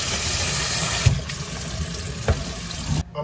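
Cold tap water pours in a steady stream over red beans in a colander, with a couple of light knocks and a brief stop right at the end.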